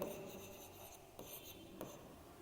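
Pen or marker writing given information for a Class 9 congruent triangles math lesson, soft scratchy strokes with a few brief louder scrapes, faint and close.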